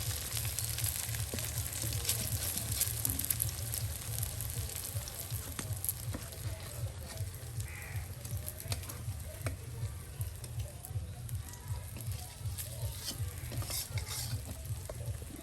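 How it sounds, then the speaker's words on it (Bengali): Fritters (bora) sizzle steadily in hot oil and are stirred and turned, giving a continuous close frying hiss broken by light scraping and tapping from the utensil, with no talking. "আর এখন তেলের সাথে আবার উলট পালট করে দেওয়া হচ্ছে যেন একদম মচমচে বড়া ভাজা হয়"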